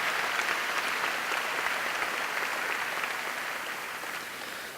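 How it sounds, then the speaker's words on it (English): A crowd claps together in a steady, full round of applause that holds evenly for several seconds before easing slightly toward the end, with no voices over it. "Let's give them a round of applause."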